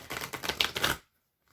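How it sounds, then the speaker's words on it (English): Tarot cards shuffled by hand for a card reading, a close, rapid run of dry riffling clicks and flutters lasting about a second before falling silent. "while I'm shuffling the cards"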